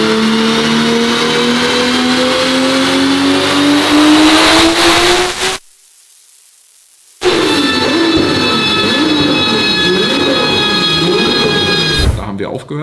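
A tuned VW Golf making 1063 PS revs hard on a dyno, its engine pitch climbing loudly, cutting out abruptly for over a second, then returning with a wavering, fluttering drone before another change at the end.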